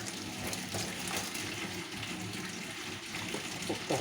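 Water pours and rushes steadily throughout, a continuous splashing hiss at moderate distance with no speech.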